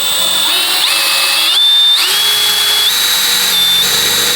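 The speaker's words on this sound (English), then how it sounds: "you need to start drilling holes into your panel van" A power drill whines loudly and continuously, its high-pitched motor pitch shifting up and down in steps as it bores through the metal panel of a Mercedes Sprinter van.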